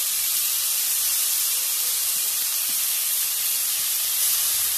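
Onions dropped into hot fried ginger-garlic paste for a potato bread fry snack, giving a loud, steady, close sizzling hiss that barely changes throughout.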